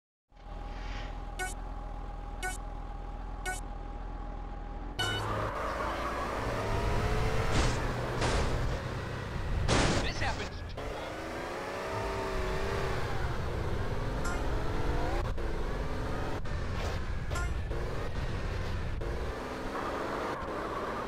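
Engines of cars racing in Grand Theft Auto San Andreas, with revving, shifting engine tones and passing rushes over a steady road roar after a short stretch of game music with beeps.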